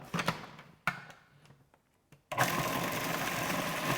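A blender whizzes tomato chutney ingredients, starting with a few short bumps and pulses, then a pause, before the motor kicks in at a steady, fairly quiet whir.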